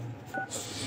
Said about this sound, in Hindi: डायल करना पड़ रहा है मोबाइल पे डायल करना